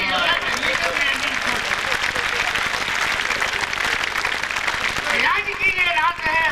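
A large audience at a comedy poetry gathering claps steadily and densely for several seconds, then the clapping fades out as a voice begins to speak over it.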